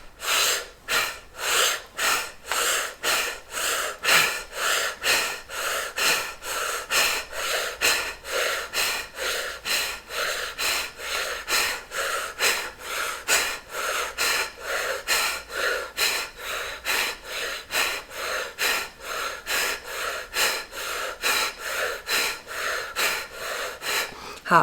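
Rapid breathwork pumps drawn in through the mouth: a long, even run of forceful, airy breaths at about two per second, close and steady throughout with no talking.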